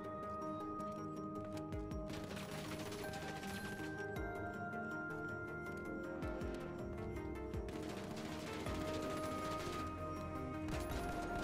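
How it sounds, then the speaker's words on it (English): Rapid bursts of submachine-gun fire from the XP-54 tactical SMG in the video game The Finals, a dense, continuous rattle of shots running loud through the whole stretch with brief gaps between volleys. "Next up, we have a XP-54, which is a tactical submachine gun."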